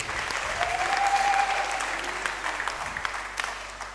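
A church congregation breaks into applause for the Lord, a dense, continuous wash of many hands clapping at once, loud and sustained for several seconds, with a faint voice or tone drifting underneath.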